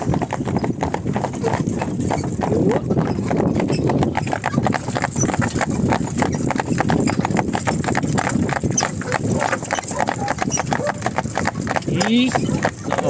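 Horse hooves clip-clop steadily on a freshly laid asphalt road, a brisk continuous rhythm close by, with people talking over it throughout.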